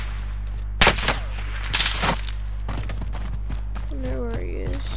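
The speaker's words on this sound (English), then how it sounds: "Rounds incoming!" Sharp gunshots crack in a military shooter played on PS4, with a few loud reports and scattered quieter shots. Someone talks over the firing.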